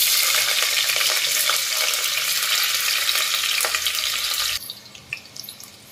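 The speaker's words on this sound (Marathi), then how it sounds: "फोडणीसाठी मी कुकरमध्ये तेल घातलेलं आहे आणि त्या तेलामध्ये कांदा फोडणीला द्यायचं आहे।" Onion sizzles and crackles in hot oil inside a pressure cooker, a loud dense frying hiss that drops abruptly to a quieter, sparser sputter near the end.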